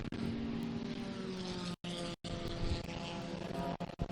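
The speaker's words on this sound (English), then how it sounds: "The Toyota 86 coming in as well." Toyota 86 race car entering the pits during a 25-hour endurance race at Thunderhill, steady engine drone with tonal hum, broken by two brief dropouts, with wind noise over the microphone.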